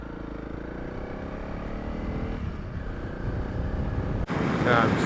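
A Honda CRF 300 Rally motorcycle rides a dirt road between Vanwyksdorp and Barrydale, its steady engine drone and rumbling tyres continuous and close, with wind buffeting the microphone and a louder gust near the end.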